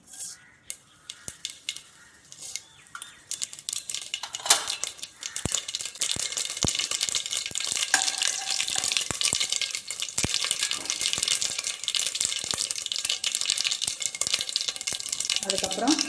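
Mustard seeds hit hot oil in a pan, setting off a dense, steady sizzle with crackling and popping that rises and holds throughout, with brief scraping at the start.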